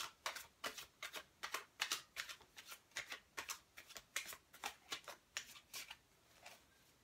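Tarot cards are shuffled by hand in a rapid series of crisp, papery riffles and slaps, around twenty distinct soft bursts in a steady rhythm, with no voice over them.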